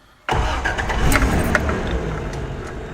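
Toyota 2F engine starting without choke, catching after a brief quiet moment and settling straight into a loud, steady running rumble.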